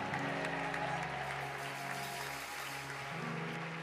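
A church congregation claps and applauds the Lord, a steady continuous wash of hands filling the room at moderate volume, with a sustained tone humming underneath.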